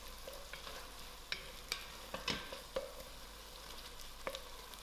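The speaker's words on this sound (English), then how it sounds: "Give this a good mix." A spoon scrapes and clinks inside a pot of sauce with chicken stock in short, irregular taps over a steady bubbling simmer, close by and without any talking.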